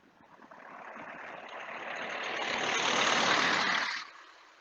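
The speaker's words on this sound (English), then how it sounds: "Oh, car coming." On a quiet village road at sunset, a car's tyre and engine noise swells from far off, peaks close by and fades quickly as it passes.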